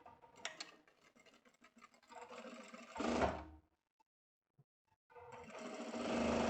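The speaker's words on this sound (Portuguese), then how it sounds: "E vou costurar na parte do tecido." A sewing machine stitches fabric for a vest, running in bursts of rapid mechanical chatter that stop for a quiet pause with faint clicks before starting up again, close by.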